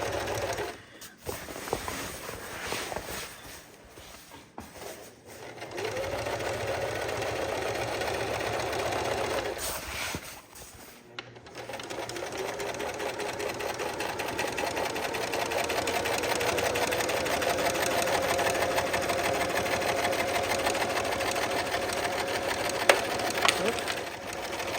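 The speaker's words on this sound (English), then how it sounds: "sewing through canvas is tricky" A sewing machine runs steadily while stitching heavy canvas for an ATV trailer cover, a close mechanical chatter that stops and restarts early on, then runs unbroken, with a voice heard over it at times.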